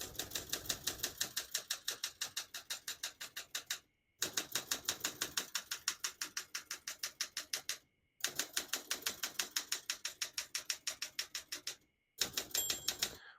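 Rapid keystrokes on a 1968 Olympia SM9 manual portable typewriter clatter in steady bursts, broken by three short pauses, with a faint bell-like margin ding near the end.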